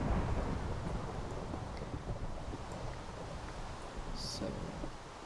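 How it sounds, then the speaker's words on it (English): Video game thunderstorm, a low continuous rumble of thunder with rain and wind, fairly faint and steady, with a brief higher hiss near the end. "Did they change the weather thing so we get more thunderstorms?"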